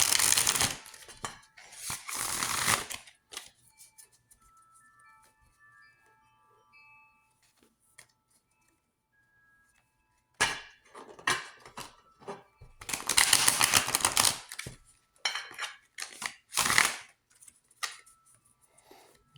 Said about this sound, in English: Let's shuffle the deck and get ready.